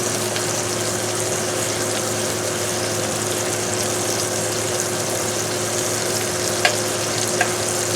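Butter sizzling in a pan alongside goose steak and filet mignon, a continuous dense frying hiss with a low steady hum underneath and two brief utensil clicks near the end, no talk.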